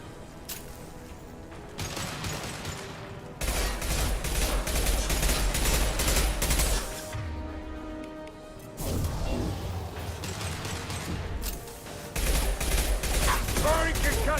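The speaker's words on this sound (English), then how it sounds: "Firing concussive shots!" Concussive shots and heavy gunfire in the video game Mass Effect 3, loud sustained bursts of shooting and crashes with short lulls between, under occasional voices.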